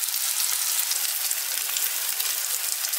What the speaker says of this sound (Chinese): 下入平底锅，小火开始煎。